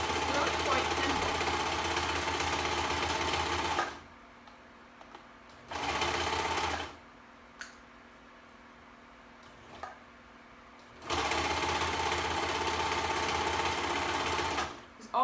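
A serger stitches three layers of fabric together for a dress, running in three loud, steady bursts separated by pauses with faint clicks and handling noises in between.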